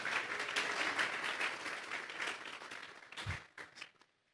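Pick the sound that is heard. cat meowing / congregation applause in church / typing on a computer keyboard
congregation applause in church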